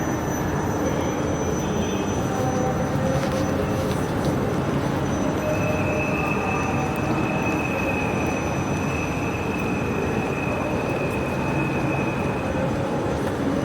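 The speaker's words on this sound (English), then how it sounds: "My God, it's a long train." A long train rolling past on rails near a British station, loud and steady, with rumbling wheels and drawn-out high metallic squeals running through the whole stretch.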